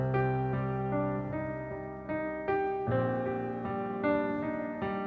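A sustained, harmonically rich melody moving through chord changes as the bass notes step downward, played smoothly with no voices.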